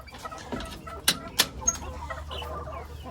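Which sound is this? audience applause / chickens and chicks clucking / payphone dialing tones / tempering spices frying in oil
chickens and chicks clucking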